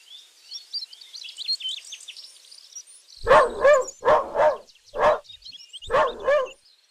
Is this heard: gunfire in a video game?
no